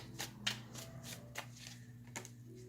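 Tarot cards shuffled and drawn from a deck, a few soft riffling snaps and slides spaced irregularly over a steady low hum, close and fairly quiet with no talk.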